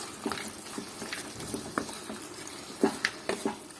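A spoon stirs chopped capsicum into a mushroom chicken curry in a pan, with soft scraping clinks and a few sharper knocks over a faint low simmer.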